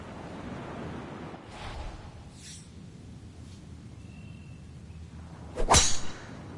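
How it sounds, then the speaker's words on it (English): Ocean waves crash below a Pacific coastal golf hole in the EA Sports PGA Tour video game, a soft rolling wash of surf with gusts of wind, ending in a sharp whip-like swish. "start to hear the crashing waves below"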